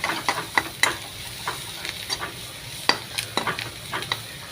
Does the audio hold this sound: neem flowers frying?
yes